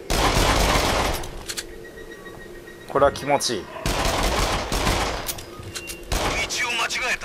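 Rapid gunfire from the VR rail-shooter Until Dawn: Rush of Blood on PS4, loud bursts of shots filling most of the clip, with a short lull where someone speaks briefly over game sounds.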